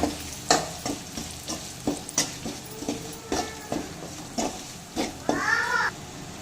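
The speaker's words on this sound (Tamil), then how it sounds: "இப்போ இது கூடவே நம்ம அரைச்சி எடுத்து வச்சிருக்கிற பொடியை இது கூட ஆட் பண்ணி கிளறி விட்டுக்கலாம்." Ground pepper spice powder is stirred into garlic frying in a pan for a milagu kuzhambu, with repeated scraping strokes of a spoon over a steady sizzle and a brief high squeak near the end.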